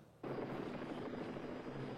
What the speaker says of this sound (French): Et là, on a déjà l'hélicoptère qui descend.